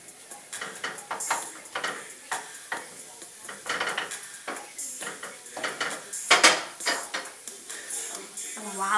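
Fish sizzling in butter in a pan while being cooked for a fish and grits meal, with clinking of utensils and pan, stirring scrapes and a steady crackling fry throughout, close by.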